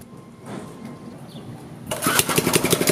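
A Briggs & Stratton small engine running on nitromethane sputters weakly at first, then roars up loud and close with a rapid, pulsing exhaust beat.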